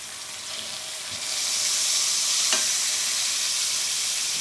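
A steak sears in a hot pan, starting with a soft hiss that swells into a loud, steady, close sizzle that carries on to the end, with a brief stir or scrape midway and no talking.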